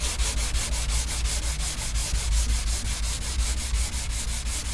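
A sanding block with 320 grit sandpaper rubs over primer on a car body in steady, rapid back-and-forth strokes, a close, even scratchy rasp repeating alone without any talk.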